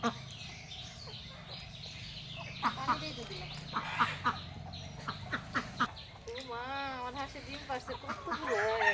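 Ducks and chickens feeding in a backyard poultry flock, with quacking and clucking calls mixed into a steady rustle, while a person talks over much of it.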